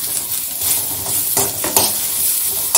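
Sliced onion and dried coconut stir-fried in a kadai for misal crackle with a busy sizzle, broken by scraping stirs of a spoon against the pan, close and fairly loud.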